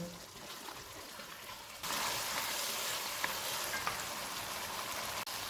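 Tender mutton fries over a medium flame until the oil separates, with a quiet hiss that jumps to a louder steady sizzle partway through, then a few faint clicks.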